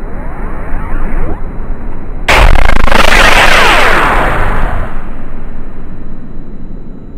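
A single loud VR 2000 shotgun blast fired at a magazine target outdoors, sharp and close, followed by a long rolling echo that fades over several seconds.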